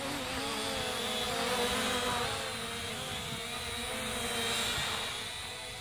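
An Eachine E58 WiFi FPV quadcopter drone, a DJI Mavic clone, hovers in flight, giving a steady, even buzzing whine of small propellers that holds without a break throughout, fairly faint and heard alone.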